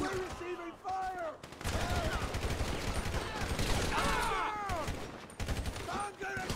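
Dense automatic gunfire roars through a GTA V mission, loud and continuous, while voices shout over the shooting.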